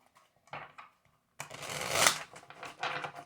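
Tarot cards being shuffled by hand at close range, a few short riffling bursts followed by a longer, louder stretch of crisp card flutter.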